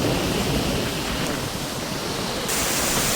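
Water pouring steadily over the Andhali dam weir on the Man Ganga river, a loud, dense, unbroken rush that fills the scene with no talking.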